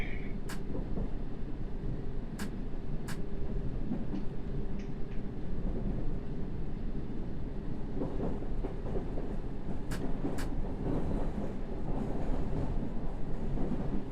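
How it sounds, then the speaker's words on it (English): Subway train running in the World of Subways Vol 3 simulation on the Circle Line, a steady continuous rumble of wheels and motor with occasional high clicks, close and alone without talk. "the train will be picking up traction because it's going down a hill"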